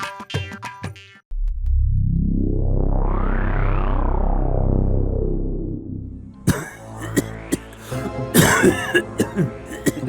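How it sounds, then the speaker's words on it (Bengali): A cartoon Maharaja in an animated Gopal Bhar comedy episode coughs in short rough bursts at the start and again near the end, with a long sweeping musical sound effect rising and falling between them. "কাশিটা একটু বেশি হয়ে গেছে।"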